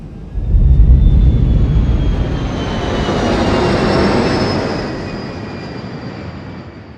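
Airliner's jet engines spool up with a loud, deep rumble and a rising whine as it takes off in the film Sully, then the roar slowly fades and swells again as the aircraft climbs away.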